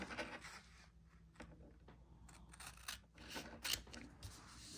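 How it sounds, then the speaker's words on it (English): Scissors snip through fusible-backed quilt fabric in a quiet room, a series of soft irregular cuts and rustles close by, fairly faint throughout. "let's go ahead and cut this the rest of the way off"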